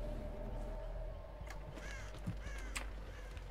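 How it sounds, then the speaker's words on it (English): Crows caw after being startled in the Dead by Daylight video game, a few harsh calls over a steady low ambient game drone, moderately loud. "I've scared every bird in like a mile radius."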